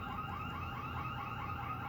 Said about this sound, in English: That alarm you're hearing is from the Potbellies.